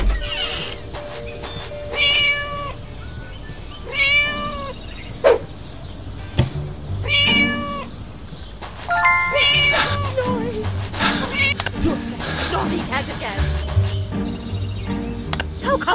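Cartoonish cat meows from the Scary Teacher 3D video game, several repeated mewing calls spread across the stretch alongside game music and sound effects.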